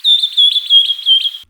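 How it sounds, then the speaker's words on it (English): A bird gives a clear, high whistling call, a sustained pure tone broken by rapid warbling chirps, repeated in four quick phrases, close and loud. "That's why a bird typically sounds like this,"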